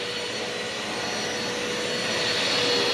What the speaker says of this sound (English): I'll just show you a little bit of vacuuming.